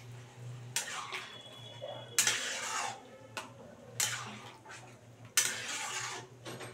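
A spoon stirs chicken keema curry in a pot just after hot water goes in, giving quiet, repeated clinking and scraping strokes against the metal with a soft watery swish between them.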